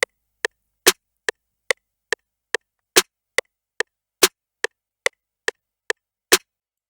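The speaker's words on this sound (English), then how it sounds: "So the next thing is the snare." Snare drum sample in an FL Studio beat, played alone as a dry, crisp pattern of short sharp hits at a steady tempo, with some hits notably louder and fuller than the softer ones between them.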